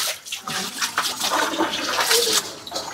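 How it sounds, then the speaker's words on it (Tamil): Water gushing and splashing steadily as it fills a large pond tank, a continuous broadband rush with no talking. "கைஸ் தண்ணி பிடிக்க ஆரம்பிச்சு."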